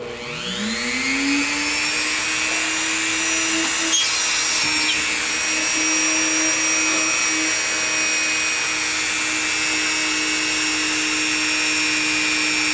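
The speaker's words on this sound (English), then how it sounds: "So I'll just line it up there with my Dremel." A Dremel rotary tool spins up and whines at a high, steady pitch while drilling holes in a circuit card, continuous and loud throughout with slight shifts as it bites.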